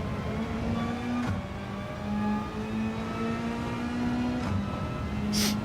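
Engine of a race car in Gran Turismo 7 revving steadily through the gears, a sustained droning whine that rises and drops at shifts, with a brief high burst near the end.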